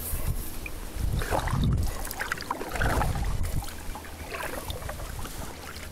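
A canoe is paddled across water in early spring, with soft rhythmic paddle strokes and gentle splashes heard close, alongside light wind noise and no talking.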